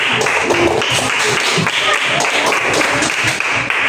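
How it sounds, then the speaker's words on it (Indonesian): Classmates clap in a school classroom during a practice-teaching exam, applauding students who step forward to answer; dense, steady clapping fills the whole stretch at close range, with some low thumps mixed in. "Tepuk tangan untuk yang maju."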